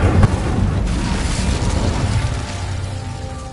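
A fire spell cast in the Hogwarts Legacy video game lands as a loud, booming burst up front, then settles into a sustained roaring crackle that slowly fades.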